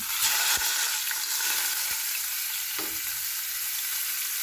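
Tilapia fish head, salted, frying in hot oil, giving a steady bright sizzle and crackle with a few soft pops and stirring clicks, close and continuous with no talking.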